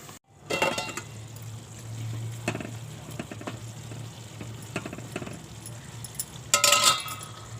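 A metal lid set onto a pan of cooking potatoes, with a steady sizzle of frying underneath, a few light clinks, and a sharper clatter near the end.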